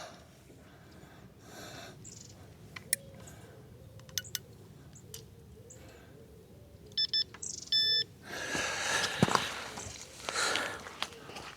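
Electronic carp fishing bite alarm sounding as the line is clipped in at a lakeside swim, brief clipped beeps in short clusters over faint outdoor ambience, followed by rustling handling noise.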